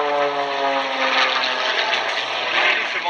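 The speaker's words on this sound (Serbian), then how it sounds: "Više motor, motor radi pa radi." Steady, fairly loud drone of a Red Bull aircraft's engine running, with a constant hum holding through the whole stretch and no voices over it.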